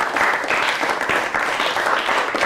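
A primary school class applauds student groups during a science lesson, a steady, even wash of many hands clapping together, close and continuous with no talk over it.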